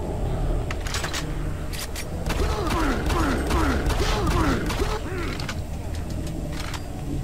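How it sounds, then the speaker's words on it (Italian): A door mechanism in the video game Doom 3 creaks and groans in a series of rising, wavering squeals over clanking mechanical noise, loud and continuous against ambient game sound. "è il rumore della porta proprio che fa così"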